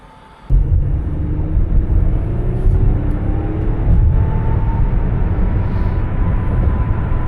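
A 2013 Toyota Avalon drives on the road, a steady close engine and road rumble that starts abruptly after a brief quiet moment and continues evenly throughout, with no talking.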